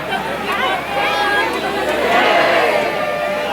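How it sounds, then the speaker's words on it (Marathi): Dense crowd of pilgrims at Saptashrungi fort, a steady close hubbub of many overlapping voices and chatter filling the whole moment without a break. "बघा गर्दी"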